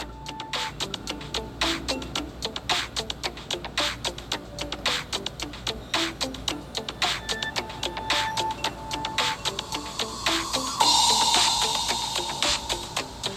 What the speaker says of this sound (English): we finish with 500 grit and 600 grit sandpaper